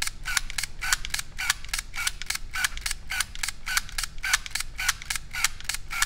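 Canon Dial 35 film camera cycling rapidly, a fast regular series of sharp mechanical clicks and whirring winds, repeating about every third of a second, close and alone.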